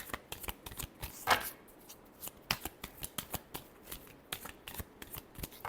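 Tarot deck being shuffled close by in quick irregular riffles and slaps, with one louder burst near the start, and no voices.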